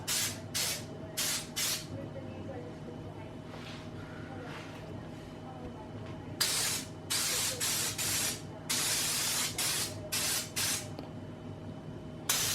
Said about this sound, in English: to spray it at very high pressure and get well back, and this makes for quite a nice flat finish